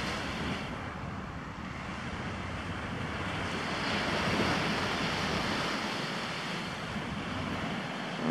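Ocean waves wash onto a beach on Koh Phangan, Thailand, a steady broadband surf roar that swells slightly midway and never pauses, with no voices over it.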